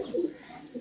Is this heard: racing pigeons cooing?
yes